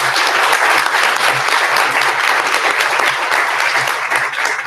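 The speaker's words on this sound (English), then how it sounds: "If we could give them a round of applause." A room of people at a school board meeting applauds school resource officers, steady dense clapping that fills the whole stretch and stays loud throughout without any voices over it.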